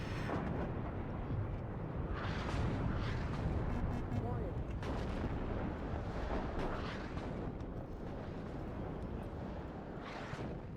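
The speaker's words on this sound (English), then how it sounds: "That artillery is actually hurting" Artillery barrages in the Cold War strategy game WARNO, a steady rumble of distant booms and blasts rolling through dense battle noise, with a speaking voice running beneath the din.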